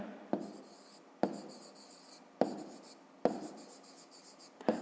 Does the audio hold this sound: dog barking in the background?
no